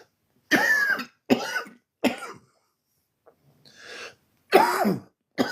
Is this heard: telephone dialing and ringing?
no